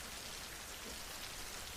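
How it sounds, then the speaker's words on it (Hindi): Heavy rain pours down outside at an early morning hour, a dense, even hiss of falling water that holds steady throughout, with nobody speaking. "बाहर कितनी तेज बारिश हो रही है,"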